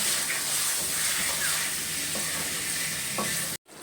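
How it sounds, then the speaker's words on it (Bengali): Mutton with spices and whole garlic cloves stir-fried in a pan, giving a steady close sizzle with scraping stirs of the spatula throughout, cut off abruptly near the end. "দিয়ে এখন মশলাটা ভালো করে কষিয়ে নেব।"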